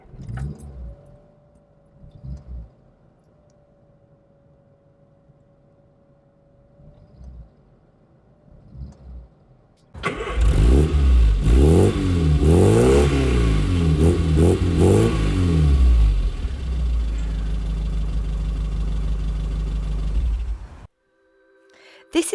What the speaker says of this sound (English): I'll get this car started up.